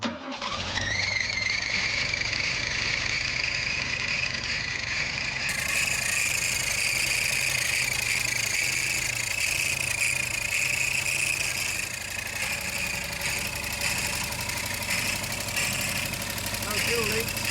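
A 1979 Opel Monza series 1 barn find engine idles roughly after starting, a loud, uneven rumble with belt whine running throughout, with voices talking over it.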